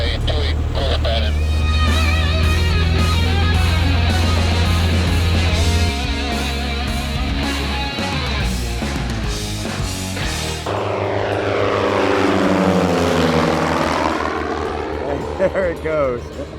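A cheap twin-engine propeller airplane powers up and takes off from runway 28, its engines droning loud and steady before swelling and sweeping past with a shifting pitch as it climbs away; a voice can be heard.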